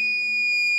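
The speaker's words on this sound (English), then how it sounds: "I start to get an alarm." A low-voltage alarm on an AIMS PWRINV250024W 24-volt inverter under bench repair as its input falls to about 20.8 volts: a steady, loud, high-pitched electronic tone that holds without a break.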